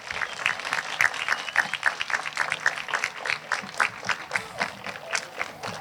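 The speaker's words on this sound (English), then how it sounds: "give your loved ones a round of applause for the support they have given you" An audience at a graduation ceremony applauds steadily, a dense patter of many hands clapping at moderate distance for several seconds without letting up.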